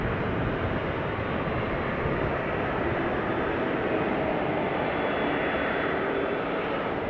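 A Garuda Boeing 777 airliner rolls along a taxiway at Schiphol airport, its engines giving a steady, broad, unbroken roar at moderate distance with no voices.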